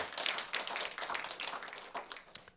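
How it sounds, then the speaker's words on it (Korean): A church congregation at a Sunday worship service claps together, a quick irregular patter of many hands heard somewhat distantly and fairly softly for a couple of seconds. "여러분들이 동의하시면 박수 치시기 바랍니다"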